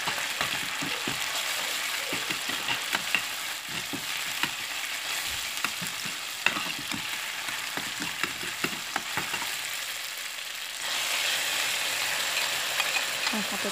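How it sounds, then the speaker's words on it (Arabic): Tomato paste sizzles and fries in a pan for Syrian vegetable pasta, a steady close crackle with occasional scraping and stirring clicks, growing briefly louder toward the end. "هون نحط ملعقة دبس بندورة بنقليها شوي"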